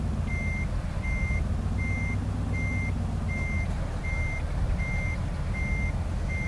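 Reversing alarm on a Mercedes NG1631 truck in Euro Truck Sim 2, a steady rhythmic beep repeating about every 0.7 seconds over the constant low rumble of the idling diesel engine, with no talk.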